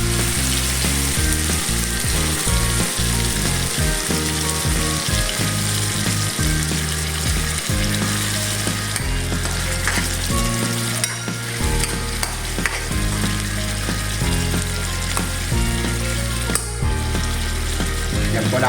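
Sardines sautéing with chopped bottle gourd in a pan, a steady sizzle broken by repeated scraping and clattering as a utensil stirs the mix, fairly close and with no talk over it.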